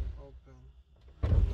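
A 2005 Scion xB car door swings shut with a single loud, close thud near the end, right after a brief stretch of talking.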